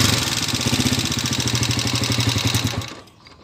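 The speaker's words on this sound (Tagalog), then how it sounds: "Madilang nga timing gear ti uni na." A running engine with a noisy timing gear rattles in a fast, steady mechanical clatter close to the microphone, then cuts off abruptly near the end as the engine shuts down.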